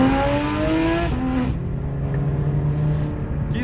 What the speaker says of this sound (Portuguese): Quem fala que Porsche não tem ronco é porque nunca andou numa GT3 RS.